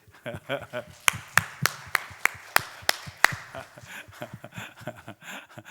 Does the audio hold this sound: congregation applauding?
yes